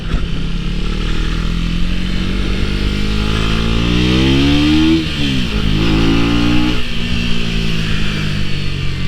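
A 2024 Husqvarna Vitpilen 125 motorcycle ridden on a commute, its engine droning steadily and loudly up close, rising in pitch through gears with a brief dip as it shifts, under constant wind rush.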